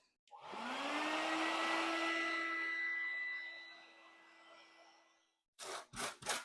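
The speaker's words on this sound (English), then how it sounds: "So just cut down for the bank and then carve out the rest." A power carving tool cuts into the bank of a model railway layout, a loud, steady whine lasting about four seconds that fades out, followed by a few short scraping bursts.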